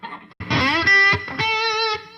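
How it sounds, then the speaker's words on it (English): Distorted electric guitar, a Gibson SG Special, playing a few sustained notes and chords, buzzy and loud, with brief gaps between the strums. "That's not even a lot of distortion."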